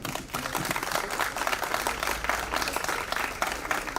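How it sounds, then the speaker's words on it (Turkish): Applause from a seated audience at a Turkish talk honoring a calligrapher, a dense steady wash of clapping hands filling the whole stretch with no voices over it. "Ona çok büyük bir alkış istiyorum efendim."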